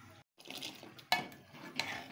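Kashmiri pink chai being whisked in a pot, with a soft continuous stirring and liquid swish and a couple of sharper metallic clinks against the pot, close and fairly quiet.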